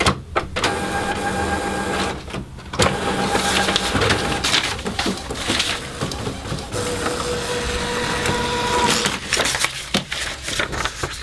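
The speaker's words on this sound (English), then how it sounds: "Now we print a nozzle check." Epson WF-7710 inkjet printer running a nozzle check print, with repeated mechanical whirs, carriage buzzes and clunks of paper feeding, close and loud, starting and stopping over several seconds.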